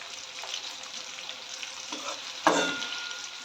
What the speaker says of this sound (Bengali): তো চলো এগুলো ফ্রাই করে আবার তোমাদেরকে পরে আসছি।